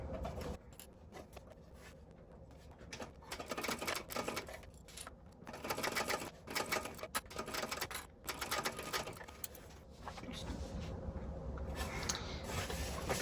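Sewing machine stitching a seam along a fabric bag panel, a steady mechanical whir with rapid needle clatter running in bursts, pausing briefly and restarting, close and fairly loud throughout.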